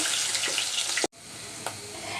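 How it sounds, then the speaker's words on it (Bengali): Grated onion frying in hot oil makes a close, bright, steady sizzle that cuts out for an instant around the middle, then resumes with a few crackles. "এই তো পেঁয়াজটা আমি হালকা ভাজা করে নিলাম"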